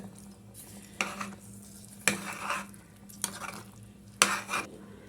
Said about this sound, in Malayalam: നല്ലോണം ഒന്ന് മിക്സ് ചെയ്ത് കൊടുക്കാം കേട്ടോ